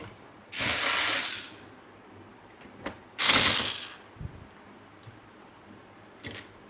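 Screws being undone and the stand taken off an old TV, with two long, loud ratcheting screwdriver bursts followed by smaller clicks and knocks as parts are handled.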